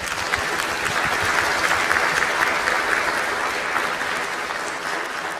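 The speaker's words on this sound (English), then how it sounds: "Let's give her a huge round of applause." An audience at a youth symphony chamber music event in Sacramento gives sustained applause, a dense and even wash of clapping from many hands that holds steady throughout.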